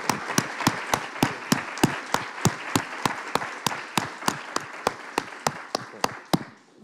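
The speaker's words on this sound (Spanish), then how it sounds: "Un aplauso para Catalina." Steady rhythmic clapping from an audience at a university book-fair talk, sharp evenly spaced claps about three per second, close and clear for several seconds before stopping.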